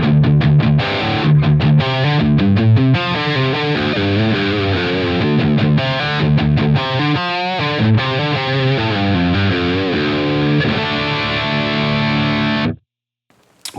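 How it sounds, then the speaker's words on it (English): An electric guitar tuned down a full step through a Line 6 Helix plays heavily distorted chords and riffs, loud and sustained for about thirteen seconds before cutting off abruptly into silence. "Let's say I wanted to tune down a full step with distortion."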